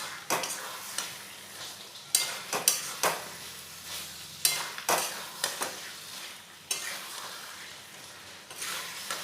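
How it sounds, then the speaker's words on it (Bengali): Duck curry with chopped coriander being stirred in a pan in a village-style kitchen, with repeated loud scraping strokes of a spoon against metal over a steady low sizzle. "দিয়ে নাড়াচাড়া করে ভালোভাবে মিশিয়ে নেব।"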